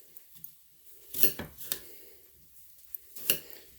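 A knife slices through an apple on a board during salad prep, a few short crisp crunches and cuts, close and fairly quiet, with two main bursts separated by soft handling noises.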